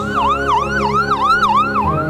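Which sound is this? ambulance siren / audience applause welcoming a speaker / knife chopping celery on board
ambulance siren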